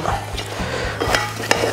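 Choux pastry dough is stirred in a saucepan, giving soft, irregular scraping and thick squelching strokes up close, with faint clinks of the spoon against the pan.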